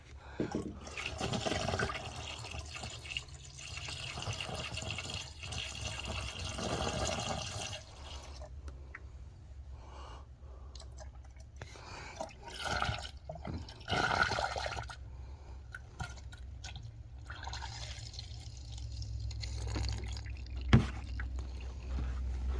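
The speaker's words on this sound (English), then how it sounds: "So we filled the cooling system" Coolant pours and gurgles into the cooling system of a Chevrolet Cruze 1.4-liter during water pump and thermostat work, an irregular close liquid glugging with pauses and a few knocks.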